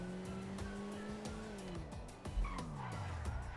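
A race car in GTA 5 brakes hard and skids, its engine note dropping as the tires squeal against a continuous engine roar, loud and close with no talking.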